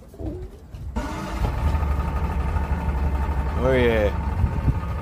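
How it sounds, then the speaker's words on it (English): An old, dirty two-stroke boat engine idles at a launch ramp, a steady low drone starting after a second and holding throughout, with a brief spoken exclamation and a cooing call over it. "Old smelly, dirty two-stroke."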